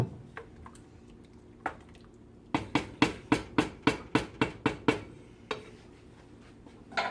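Gumbo is stirred in a pot, a spoon knocking and scraping in about a dozen evenly spaced, quiet taps, with softer scattered clinks before and after and no talking.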